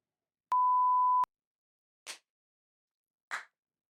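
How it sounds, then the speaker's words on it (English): A single steady electronic beep lasting under a second, followed by two sharp hand claps spaced about a second apart in a quiet room. "I'm gonna beep it"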